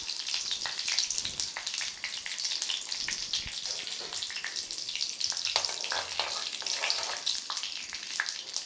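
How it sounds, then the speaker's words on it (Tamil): Mustard seeds spluttering in hot sesame oil for raw-mango rice: dense, rapid crackling and popping over a continuous sizzle, close and steady throughout, with no talking. "இப்போ கடுகு நல்லா பொரிஞ்சு போச்சு"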